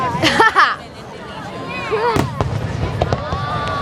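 Fireworks from a Fourth of July display in Pittsburgh pop and crackle at a distance, with whistling rising shells and a few sharp bangs, while nearby spectators chatter and exclaim over them.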